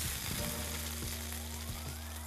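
Pork and vegetable skewers on bamboo sticks sizzle in a hot pan with a continuous close crackle, plus a low steady hum and a few soft knocks.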